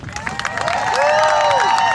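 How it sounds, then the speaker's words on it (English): A crowd at a live jousting show applauds loudly for the ground crew, with clapping that swells and holds, whistles and cheers on top, and voices mixed in. "A round of applause for our lovely ground crew"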